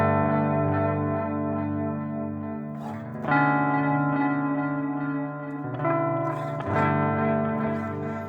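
Electric guitar runs through a Boss DD-8 digital delay in mod mode, with sustained chords ringing under warbling modulated repeats and swells of new strums at intervals, loud and upfront.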